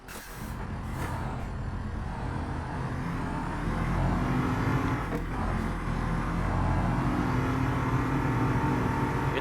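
Truck engine droning steadily in a driving game, a loud, continuous low rumble with slight shifts in pitch and a couple of brief clunks from gear changes.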